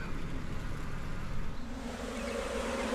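Honeybees fanning inside a hive box after a large cutout, a steady close buzzing drone that continues without a break and carries no voices.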